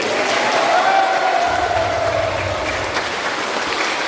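Worshippers at an Easter Sunday Mass in a Catholic parish church applaud themselves, a broad, loud wash of crowd clapping with a low rumble and faint tonal hum in the room.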